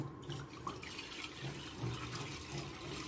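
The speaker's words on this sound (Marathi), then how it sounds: "त्यासाठी मी एक जग पाणी घेते" Water pours from a jug into a vessel while preparing a homemade cleaning mixture for brass and copper utensils, a steady, fairly faint stream lasting a few seconds with no talking.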